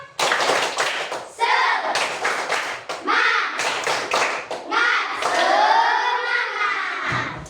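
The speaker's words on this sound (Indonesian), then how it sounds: "Tepuk tangan." Classroom students clapping their hands together in bursts of rhythmic group claps with thumping and children's voices between, close and fairly loud, pausing briefly between rounds.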